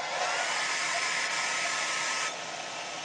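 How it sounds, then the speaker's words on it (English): A hair dryer blows steadily on a fresh live painting to dry the wet paint, a loud, close, continuous airy roar that drops slightly in level toward the end, with no talking. "I'll go ahead and just hit this with the hair dryer"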